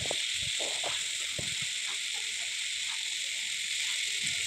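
Mixed vegetables fry in a pan with a steady, bright sizzling hiss that runs unbroken throughout, with a few soft low knocks underneath.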